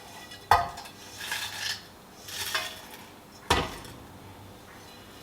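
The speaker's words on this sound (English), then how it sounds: "gently we're going to add this to the warm oil" Heated spices are tipped from a pan into warm oil for homemade chilli oil: two sharp metallic clinks with soft scraping swishes between them, all fairly quiet and close.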